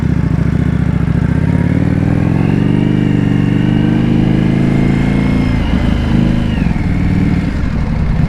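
A 2025 Indian Scout Bobber motorcycle with a Vance&Hines exhaust rumbles loud and close, its deep engine note rising and holding steady before easing back, with no talk over it.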